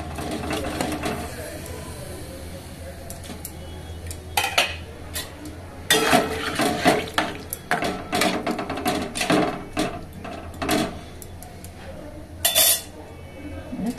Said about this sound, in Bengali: ফুলকপিগুলো দিয়ে দিচ্ছি।